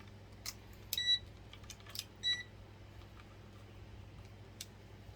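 A thermometer gives two short, high electronic beeps about a second apart, amid faint clicks and handling noises in a quiet room.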